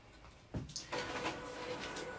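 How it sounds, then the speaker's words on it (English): A label printer feeds out labels with a steady mechanical whir and rattle that starts after a soft knock or two, close by and continuous, with no talking. "As soon as I put this thing in, it started printing labels out."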